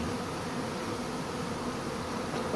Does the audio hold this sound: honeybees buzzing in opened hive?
yes